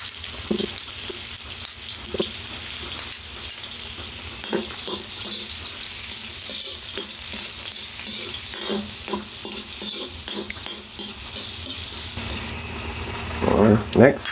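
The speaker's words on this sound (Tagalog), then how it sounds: "Sa paggigisa, inuuna ko yung sibuyas" Onions sautéing in a pan, a steady soft sizzle under intermittent stirring scrapes and taps, close by, with a brief louder clatter near the end and some quiet voice in the background.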